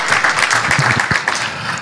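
A conference audience applauds as a speaker takes the stage, with brief, fairly close clapping from a room of people and sharp individual claps standing out.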